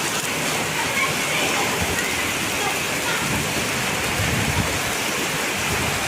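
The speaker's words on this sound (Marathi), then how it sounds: "पहा गारांचा पाऊस चालू आहे" Dense, steady hail and rain pattering hard on surfaces all around, small hailstones, a loud continuous roar with no letup.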